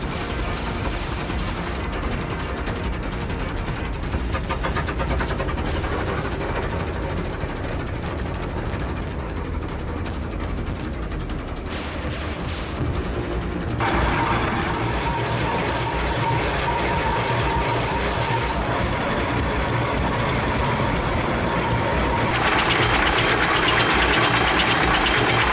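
A vintage steam-era engine with exposed gears runs continuously, a dense mechanical clatter and whirring hum with rhythmic ticking that shifts in tone partway through, loud and close with no talking.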